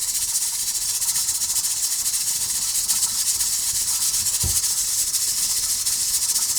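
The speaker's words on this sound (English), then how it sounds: "Put just a little bit of the egg mixture and just let it cook, and it'll puff up." Egg mixture for ham omelets cooks in a pan with a soft, constant hiss that holds steady throughout, with a single brief low thump partway through and no voices.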